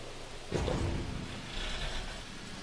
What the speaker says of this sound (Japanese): めちゃめちゃすげえ雨